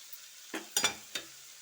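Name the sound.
bottle gourd pieces frying in a pan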